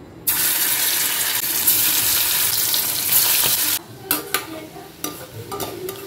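Fish oil pakoda fries in a pan with a loud, close, dense sizzle for several seconds. The sizzle then drops to quieter frying, broken by a few scraping stirs and clinks against the pan.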